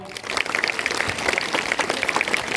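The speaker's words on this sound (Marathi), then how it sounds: "एकदा तुमच्या स्वतःसाठी टाळ्या वाजवा" A group of children claps together in steady, dense applause that carries through the whole stretch, loud and continuous with no talk on top.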